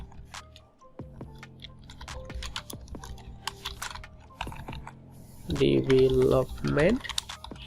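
Typing on a computer keyboard, scattered quiet key clicks in irregular bursts, with someone speaking over it near the end.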